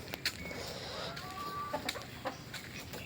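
Backyard chickens let out of their coop give several short, scattered clucks over quiet outdoor ambience, fairly close and moderately soft.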